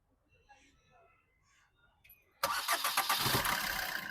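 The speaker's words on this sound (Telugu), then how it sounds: "సింగిల్ సెల్ఫ్లో బండి స్టార్ట్ అవుతుంది సార్." A 2018 Maruti Suzuki Vitara Brezza ZDI+ engine cranks and catches on the first try, bursting from near-silence into a loud, steady running rumble, with faint voices beforehand.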